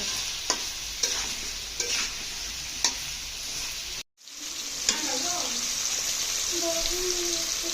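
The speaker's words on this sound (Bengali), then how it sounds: "হলুদ মরিচ আর লবণ একসাথে দিয়ে এখন একটু কষিয়ে নেব" Potatoes and ridge gourd sautéing with turmeric, chilli and salt, a continuous near sizzle with periodic spoon scrapes and clinks, one brief dropout midway, then frying again.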